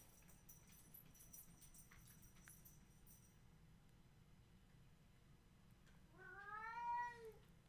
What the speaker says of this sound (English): That's the cat that can't be on protein.